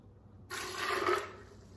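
Water pours into a Vitamix blender jar holding a cup of cashews, a short, steady splashing rush that starts abruptly and fades slightly, heard alone.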